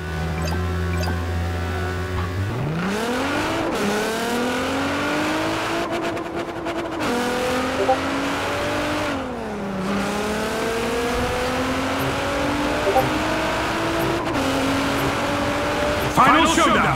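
Racing cars in a video game race roar continuously, engine notes climbing and shifting through repeated gear changes as they accelerate, loud and steady throughout, with a brief burst of higher noise near the end.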